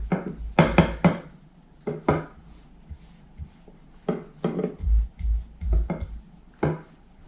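A rolling pin works moist, sweet Christmas kalach bread dough on a board, making irregular wooden knocks and short rumbling rolling strokes separated by quiet pauses, close and fairly loud.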